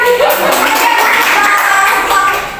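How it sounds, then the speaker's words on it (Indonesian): A classroom group claps for a pupil named Dewi, a brief loud burst of hand clapping that fades slightly at the end. "Tepuk tangan dulu untuk Dewi."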